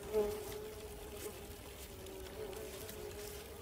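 A steady, low buzz of hornets at their nest hums continuously throughout, fairly faint, with a few slightly louder swells near the start.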